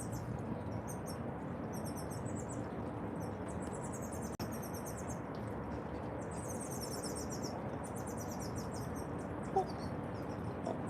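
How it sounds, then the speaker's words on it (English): Faint, rapid high-pitched chirping in repeated bursts over a steady outdoor background, with one sharp click partway through. "You guys hear those birds?"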